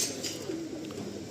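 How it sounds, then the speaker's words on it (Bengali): Adult breeding pigeons coo softly and steadily in a low, faint murmur that lasts about a second with no other sounds. "হ্যাঁ, ধাড়ি পায়রা, এগুলো ধাড়ি, এগুলো ব্রিডিং করানো যাবে।"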